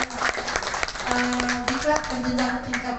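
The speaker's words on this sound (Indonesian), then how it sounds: "mohon berikan aplaus dan tepuk tangan semangatnya untuk para pengajar" Participants in an online basic training course clap for their instructors, scattered, uneven claps over a sustained tone, with voices mixed in.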